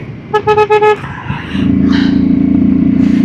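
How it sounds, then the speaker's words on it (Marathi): Horn toots from a vehicle approaching head-on on a narrow mountain ghat road in Ladakh, four quick close honks followed by a steady engine drone as it nears. "समोरून गाडी आली"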